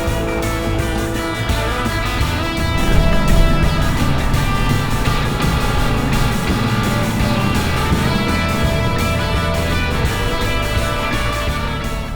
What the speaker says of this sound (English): We're reversing up to camp.